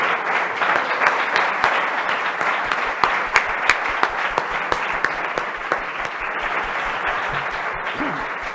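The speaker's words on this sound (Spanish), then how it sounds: "Ahora sí, un aplauso." An audience at a political talk event applauds, a dense sustained burst of hand clapping from a room full of people, steady and close, with no voices over it.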